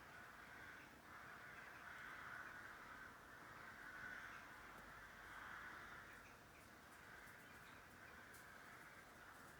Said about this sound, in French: on entend les corneilles